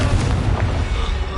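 A Confringo spell explosion in Hogwarts Legacy rumbles as a loud, deep boom filling the whole brief moment.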